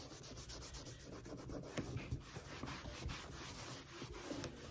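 An old brush rubs and wipes excess stain off an upcycled wooden barrel sign in quick, quiet, repeated scrubbing strokes, close and faint.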